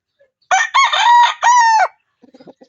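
A rooster crows loudly and close by in one long call, followed by a few soft clucks from five-month-old chickens on a farm.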